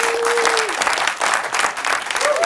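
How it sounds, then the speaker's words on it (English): Loud, dense applause from a studio audience fills the air for guests on a car insurance talk show, steady throughout with a brief dip midway, and a tonal whistle-like sound gliding above it at the start and end. "they need a big round of applause"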